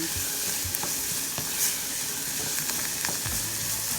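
Garlic, carrot, onion and green and red peppers sizzle and fry in a pan, a steady close crackling hiss with occasional stirring scrapes and no talk.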